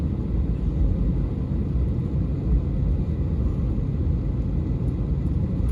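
An SAS Airbus A320neo airliner departing Copenhagen Kastrup, heard from inside the cabin as a steady, heavy low engine rumble and whir that stays constant and loud throughout.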